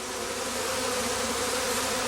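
Honeybees around a traditional straw skep, a dense, close, steady buzzing hum with no pauses over a brief moment.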